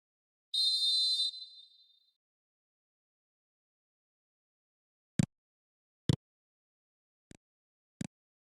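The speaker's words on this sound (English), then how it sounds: "Whistle's gone, that's foul." A referee blows the whistle for a foul in a football match involving Barcelona: one short, sharp blast, followed by silence broken by a few isolated clicks.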